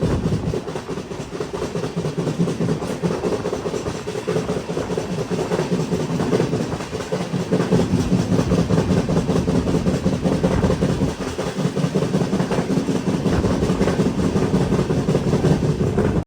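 The Venad Express runs on the rails between Thiruvananthapuram and Shoranur, nearing Mavelikkara station, with a steady, loud rumble and faint rhythmic clatter throughout.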